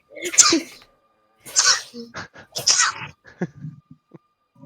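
A single sharp sneeze bursts out, followed by a couple of quieter sneezy exhalations and a short murmur.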